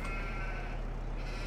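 Sheep bleating on a farm, a drawn-out wavering bleat against steady low background noise, moderately close and not competing with any voices.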